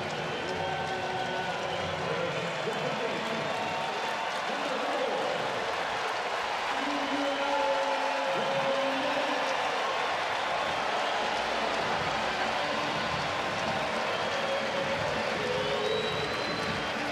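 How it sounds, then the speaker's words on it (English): Sustained crowd applause and cheering fills a baseball stadium during a Cardinals at Cincinnati Reds game, a steady broad roar with no clear peaks, holding evenly across the whole stretch. "Listen to this round of applause."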